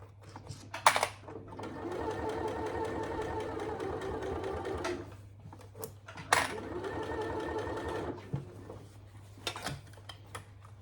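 Sewing machine stitching the gusset of a saddle bag in two steady runs of rhythmic mechanical chatter, close and moderately loud, with brief clicks and a low hum between them.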